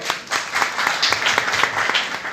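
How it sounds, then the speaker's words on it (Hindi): Audience applause at a Holi gathering: steady, dense clapping from a sizeable crowd that stays loud and close for the whole stretch, with no one talking over it. "इसके लिए जोरदार तालियां बजाइएगा।"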